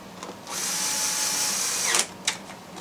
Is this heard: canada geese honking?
no